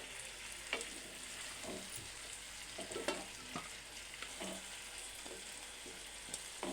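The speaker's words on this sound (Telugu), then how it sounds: "చికెన్ ఇలా ఉడికించుకున్నాం కదా, నూనెలో వేయించినాం" Pieces of chicken fry in hot oil with a continuous bright sizzle, broken by frequent crackles and pops as the pieces are stirred, close and alone without talk.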